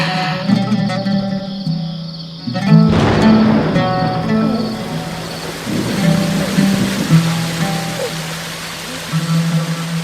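Steady rain falls as a broad, even hiss that swells in after a few seconds and continues to the end, mixed with sustained music and no talking.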